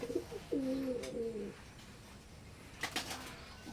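Teddy 128 pigeons coo in two low, drawn-out rounds early on, fairly close. A few faint sharp knocks or wing sounds follow near the end.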